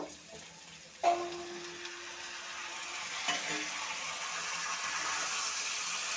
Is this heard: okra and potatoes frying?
yes